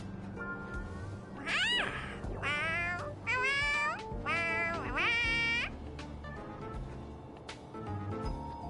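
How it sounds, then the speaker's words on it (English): A cat-like creature in the video game Honkai: Star Rail lets out a series of high, warbling meows, several calls in quick succession, loud and clear over a low game soundtrack. "That sounds like a cat"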